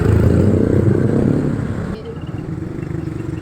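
A manual motorcycle rides through busy traffic, its engine droning steadily and loud up close, then dropping to a lower, rougher hum with faint clatter.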